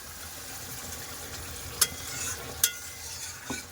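Soft continuous sizzling as a thick spice paste fries in a pan, with a few sharp clicks of a spoon scraping the metal.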